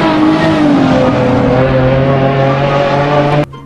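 A toy race car plays a loud, close electronic engine revving sound that drones steadily with shifting pitch for several seconds before cutting off abruptly.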